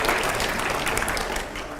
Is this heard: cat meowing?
no